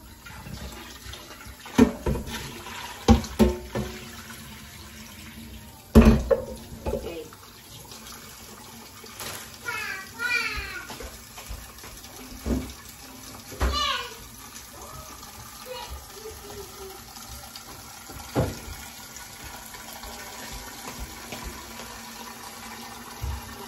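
Tap water runs into a kitchen sink while meat is washed for bulalo, a steady low wash broken by clattering knocks and splashes, with someone talking at times.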